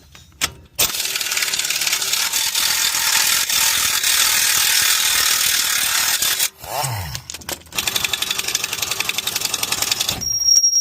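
A ratchet wrench turning a 17 mm nut on a car's suspension during a lowering-spring job, with long loud bursts of rapid clicking, a brief pause with a clunk, then a closing stretch of quicker, evenly spaced clicks.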